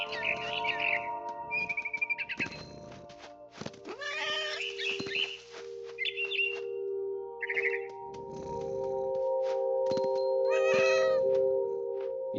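A cat meows repeatedly in the video game What Remains of Edith Finch, several distinct, close mews and yowls mixed with bird-like chirps over a steady tonal background hum.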